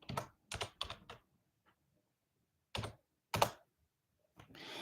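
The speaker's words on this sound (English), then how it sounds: "I guess I gotta type it in" Bursts of typing on a computer keyboard, several quick clusters of keystrokes separated by silent pauses, close and clear, with no talk.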